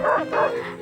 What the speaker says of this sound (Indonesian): Anjing menggonggong pada waktu malam